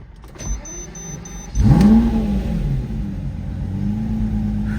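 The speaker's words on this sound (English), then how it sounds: "let me start the car up." A Lamborghini Murcielago fires up after a brief click and whir, settling into a loud, steady, deep engine rumble at idle close by.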